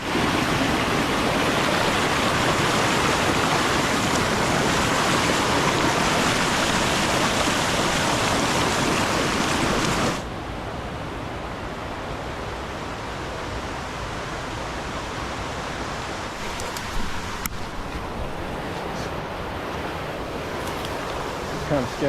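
River rapids rush loudly as a dense, steady roar of churning water, then drop to a softer, more distant flow partway through, with no voices.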